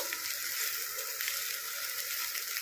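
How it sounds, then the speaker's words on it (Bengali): Giant soybeans fry in oil in a pan, giving a steady close sizzle with light stirring scrapes throughout, no voices. "তো দেখুন প্রত্যেকটা সয়াবিনকে ভালো করে এভাবে নাড়াচাড়া করে নিয়ে একটু বেশ ব্রাউন ব্রাউন কালার পর্যন্ত অপেক্ষা করব।"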